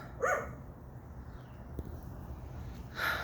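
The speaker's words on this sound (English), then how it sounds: "the way the dogs are barking" Dogs bark somewhere off at a distance, with one short burst near the start and another near the end over a quiet room background.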